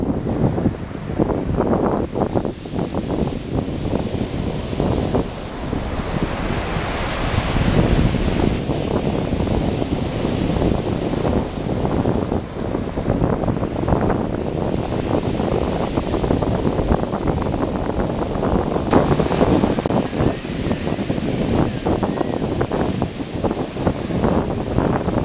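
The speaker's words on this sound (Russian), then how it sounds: "Ой, какие красивые волны." Sea waves breaking steadily on the shore at Alanya, Turkey, with strong wind buffeting the microphone; a continuous loud wash of surf and gusts throughout, with no talking.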